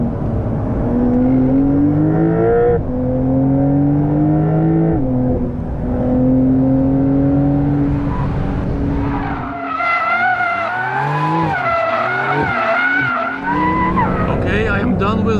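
A 2021 Porsche 911 Carrera GTS (992) laps the PEC Franciacorta race track in Italy, its engine loud and close with rising and falling revs through the gears, tire squeal and skidding coming in the second half, and a person talking over it.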